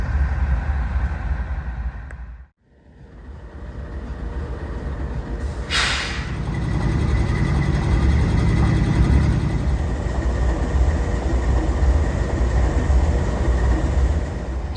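Union Pacific freight train with a helper locomotive, heard as a steady, loud rumble of rolling cars and engine drone, with a brief dip near the start and a short hiss like an air brake release partway through.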